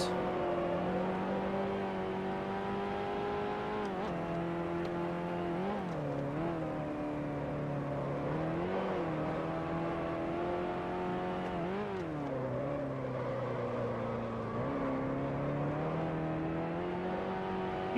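A Connaught Type B race car from 1955 in a racing simulator at Brands Hatch, its engine droning steadily and loudly throughout, with repeated dips and climbs in pitch as it shifts and revs through corners.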